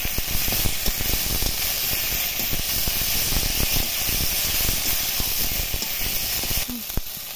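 Jackfruit curry with cumin and coriander paste is stir-fried in a hot pan, giving a steady broadband sizzle with crackling spatters. It is close and continuous throughout, with no talking over it.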